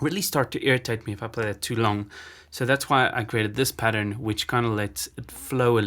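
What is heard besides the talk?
No everyday noises stand out.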